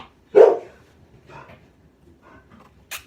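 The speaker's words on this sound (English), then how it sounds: "So that's my dog." A pet dog at home barks at someone walking past the house: one loud, close bark followed by a few softer yips and whines, ending with a short sharp yelp.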